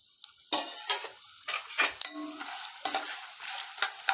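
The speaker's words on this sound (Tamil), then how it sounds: "வறுக்கிற வேண்டியதெல்லாம் போட்டுக்கலாங்க. காஞ்ச மிளகாய் ரோஸ்ட் பண்ணது, கடலைப்பருப்பு, உளுத்தம்பருப்பு," Dried red chillies, chana dal and urad dal stir-roasted in a pan, with repeated close scraping stirs and light rattling of dry lentils in short uneven bursts over a soft sizzle.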